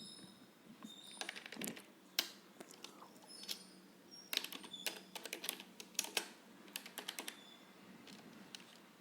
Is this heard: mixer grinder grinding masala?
no